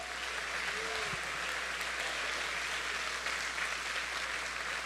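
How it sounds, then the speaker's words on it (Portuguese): A church congregation applauds during a pastor's service. The clapping is a steady, faint wash that holds at an even level for the whole stretch, with no voices standing out. "Aplaudam Jesus."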